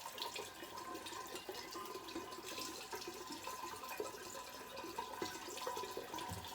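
Water poured through a funnel into a bucket of wine being filtered, a faint continuous trickling and splashing that churns the liquid, steady throughout.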